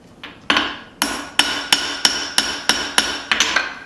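Hammer blows forging bevels into a small knife blade made from a bolt, about a dozen sharp ringing metallic strikes in a steady, fairly quick rhythm, close and loud with no talking.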